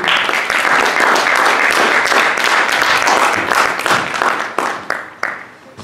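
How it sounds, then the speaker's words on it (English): Audience applause welcoming a speaker named Ian to the stage at a psychedelics-themed talk event, a dense steady wash of many hands clapping that thins into scattered claps near the end. "Let's have a round of applause for Ian."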